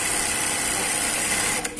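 A Juki LBH-1790A buttonhole sewing machine runs in a fast, steady mechanical whir, close and fairly loud, before cutting out briefly near the end.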